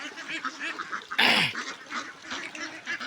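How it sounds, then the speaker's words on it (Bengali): A single loud, harsh honking quack bursts out briefly on a duck farm of about five hundred ducks, amid a soft background of murmuring bird calls. "এখানে বর্তমানে আমার পাঁচশো এগারো পিস হাঁস রয়েছে"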